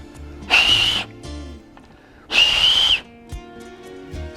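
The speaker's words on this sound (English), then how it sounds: "we can get these little acorn caps, Uh-huh. make a whistle" Two loud, shrill whistles are blown on an acorn cap outdoors in an open space, each lasting about half a second, separated by a pause filled with faint rustling and handling noise.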